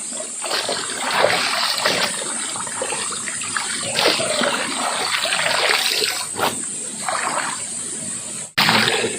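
Water splashes and trickles steadily during hand laundry while bathing, close and continuous, with a brief sharp break near the end.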